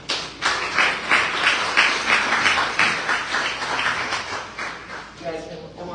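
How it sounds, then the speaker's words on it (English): An audience claps at a live performance, a rhythmic, fairly loud round of applause with pulsing beats that thins out near the end, when a voice briefly speaks. "Round of applause."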